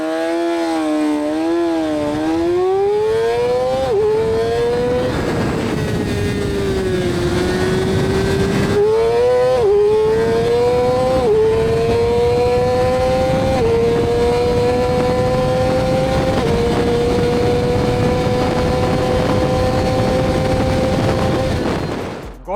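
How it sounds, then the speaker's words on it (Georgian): A 2024 Yamaha R6 sport bike accelerates hard, its loud engine note climbing repeatedly and dropping at each gear change, close and continuous for over twenty seconds. "საერთო ჯამში ახლა ამ ბაიკზეც განახებთ აჩქარებას"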